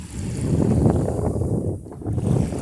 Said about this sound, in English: we're just sort of broad reaching here, really almost running before the wind with full jib